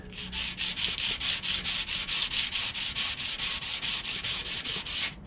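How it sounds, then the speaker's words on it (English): Sandpaper rubs back and forth over a hand-forged horseshoe knife, a steady run of about twenty-five even strokes that are close and loud, the scratchy rasp continuing alone with no talk. "What's fun with the sandpaper is you can go on both sides"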